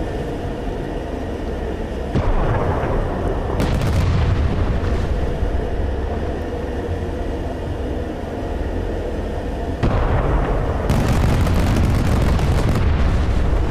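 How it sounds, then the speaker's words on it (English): Loud, sustained roaring bursts of rapid heavy gunfire from a destroyer's rotary cannon in the video game DCS World, with booming rumble underneath, swelling and fading in long stretches. "now the rotary cannon is going"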